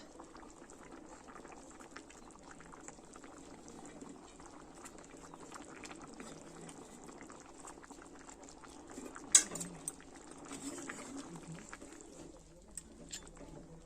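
Meat curry boiling in a pot, cooked village-style: a faint, steady bubbling hiss runs throughout with a brief clatter near the middle, and a soft voice and bird calls sit in the background.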